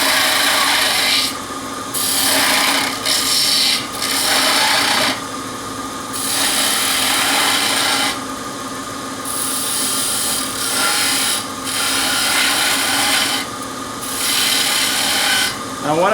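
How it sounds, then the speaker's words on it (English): A spindle gouge cuts a bead on wood spinning on a lathe, a loud, close rasping hiss in long passes broken by brief pauses as the tool lifts, over the steady hum of the machine. "I'm going to use my spindle gouge, and I'm just turning a bead."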